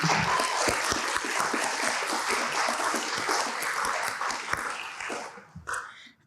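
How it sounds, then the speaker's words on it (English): A crowd at a Gwinnett County Youth Commission celebration applauds Mr. Terrence Daniels with dense, steady clapping that carries for about five seconds, then thins out and tapers off near the end. "Can we give him a big round of applause, please?"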